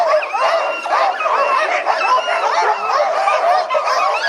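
Excited sled dogs in a kennel in Juneau, Alaska, bark, yip and whine together in a dense, continuous chorus, loud and close, with many overlapping voices.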